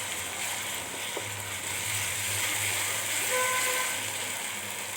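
Ground spice paste of garlic and ginger hisses and sizzles steadily in oil with softened onions in a pan, a continuous close frying sound with no talking.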